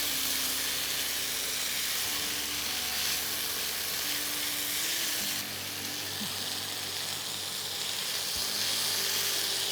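Vegetable peels for a Bengali chhenchki fry in a pan with a steady, close sizzling hiss that shifts slightly midway, as if stirred, with no talking.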